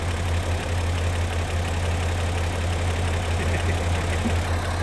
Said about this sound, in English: he's got his favorite tractor running